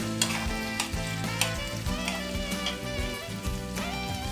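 Sliced onion fries in oil with chana dal and urad dal as a spoon stirs the pan, steady sizzling broken by repeated scraping strokes in a regular rhythm, close and alone.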